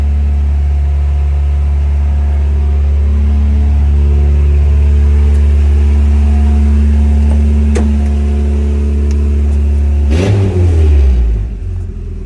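Old barn-find pickup truck engine running with no muffler, a loud, raw, steady idle rumble throughout that rises slightly before a quick rev and drop near the end.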